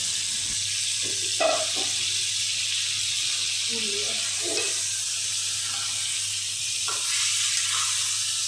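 Spiced wash water goes into frying duck curry with browned onions, a steady sizzle and hiss with a few splashing bursts and stirring clinks, a low hum beneath and faint talk now and then.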